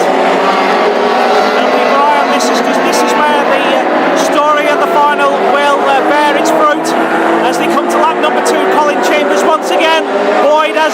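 Race cars lap the Hednesford oval late in a final, their engines droning loud and close with rising and falling whines as they pass, under continuous commentary.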